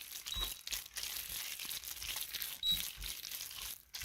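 Soft, close crinkling and moist rustling as noodles are mixed by hand into a chicken and shrimp nem filling, a steady faint texture with small crunchy bursts.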